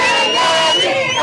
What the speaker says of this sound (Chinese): 人质出现的迄一刻，现场响起闹一个欢呼声